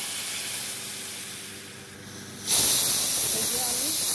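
Water poured into a pan of fried, salted spice paste sets off a sudden loud, steady sizzling hiss that starts midway and continues to the end, after a quieter stretch of low cooking noise.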